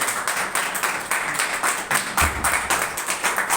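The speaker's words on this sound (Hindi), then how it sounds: "जोर से ताली बजाकर उसकी तारीफ" A church congregation claps loudly in praise during a Hindi worship sermon, many hands striking in a fast, roughly even rhythm that fills the room, with no speech.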